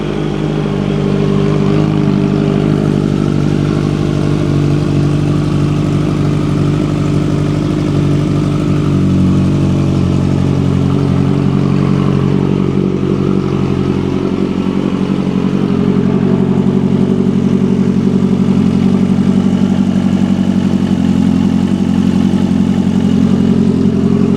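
A Kawasaki Ninja H2 motorcycle, first start in six months with about 4,392 miles, idles loudly and steadily up close, its deep engine note holding a continuous low rumble and settling slightly over the run without any talk.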